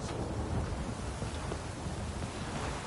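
Heavy downpour in The Witcher 3: a steady, dense hiss of rain with a low rumble underneath, constant and fairly faint, with no talk.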